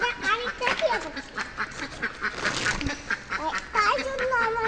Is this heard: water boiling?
no